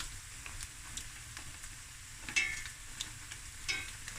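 Cashew nuts toast in a pan: a quiet, soft sizzle runs throughout, with a few sharper scrapes and clicks from stirring near the middle and end.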